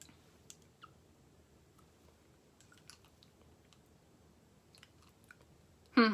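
Someone chewing a coffee-flavored CBD pet treat, giving soft, faint, intermittent munching and clicks with no talking, ending in a brief louder burst.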